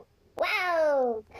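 A robot cat in a virtual pet game gives a single drawn-out synthetic meow, close and clear, rising then slowly falling in pitch against a quiet background.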